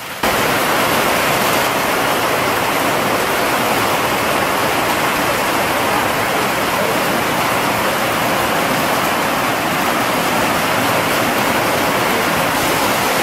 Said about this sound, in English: as much rain as we're having right now